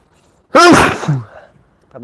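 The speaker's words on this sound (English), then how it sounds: "I just like sneezed right into the microphone." One loud, close sneeze blasts straight into a microphone with a sharp explosive onset and a trailing breathy tail. A short bit of speech follows.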